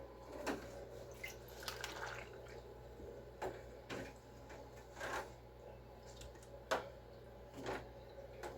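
Collard greens being washed by hand in a basin of water, soft splashes and drips recurring every second or so, gentle and close in a quiet kitchen.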